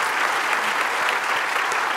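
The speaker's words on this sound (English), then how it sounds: "I want to give him a well-deserved round of applause" Keynote audience at a tech conference applauding steadily, a dense, even wash of clapping with no gaps, filling the hall throughout.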